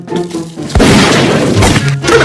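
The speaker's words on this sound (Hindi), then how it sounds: "चाचा यार गोलियां चल रही हैं यार।" Loud, dense blasts fill the scene with a boom near the start and another heavy burst partway through, firearms going off close by amid a chaotic, crashing wash of sound.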